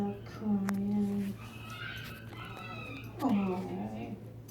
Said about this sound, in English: do you hear that dog crying?